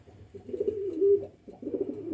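Nearby pigeons make a few drawn-out, burbling coos separated by brief pauses, moderately loud against a faint low background hum.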